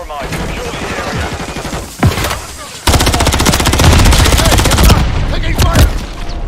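Rapid automatic gunfire rattles in a video game battle, long bursts of close, loud machine-gun fire with a short gap, then a sustained volley and scattered shots; voices are heard in the mix.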